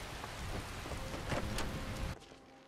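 Steady rain falls in the video game Skyrim, a dense hiss of drops on surfaces with no talking, then it drops away abruptly near the end.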